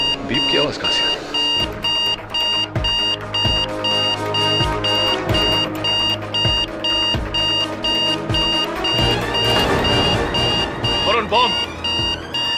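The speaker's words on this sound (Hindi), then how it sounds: "बीप की आवाज कहां से आ रही?" A steady electronic beeping from a bomb rings through a tense courtroom-drama scene, high and continuous over a dense bed of dramatic music and sound effects, with people talking across it.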